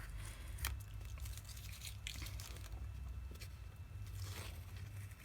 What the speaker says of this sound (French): Je crois qu'enlever le scotch, c'est une de mes parties préférées.